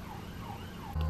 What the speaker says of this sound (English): Like the sound of the sirens